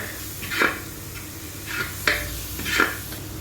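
Beef curry being stirred in a pot after coriander powder goes in, three distinct scraping strokes of a spoon over a soft background sizzle, close and without speech.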